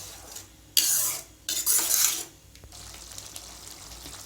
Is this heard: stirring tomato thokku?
yes